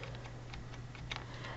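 Computer keyboard keys tapped at a desk during Photoshop editing, a quiet run of light irregular clicks over a low steady hum.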